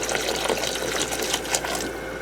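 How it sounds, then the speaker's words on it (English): Cold water runs from a tap into a bowl to cover rhubarb for soaking, a continuous splashing gush heard up close. "Just put enough cold water in to cover."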